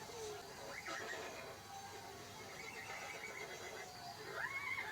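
A horse whinnies in a film scene, with rising and falling neighs near the start and end over steady background ambience, moderately loud and without talk.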